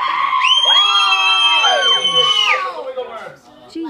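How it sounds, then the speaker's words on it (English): A group of children cheering and screaming together at a toilet paper sumo wrestling event, loud, high-pitched whoops and shouts sustained for a few seconds before trailing off. "let me hear a cheer from the mighty mummies"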